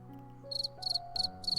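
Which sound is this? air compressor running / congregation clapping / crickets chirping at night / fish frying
crickets chirping at night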